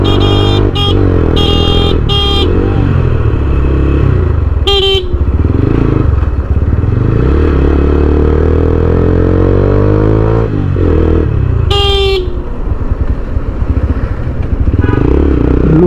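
A Taro GP six-gear motorcycle with about 17,000 on the clock drones loudly and continuously on a ride, its pitch climbing and falling through the gears as several sharp horn honks cut in.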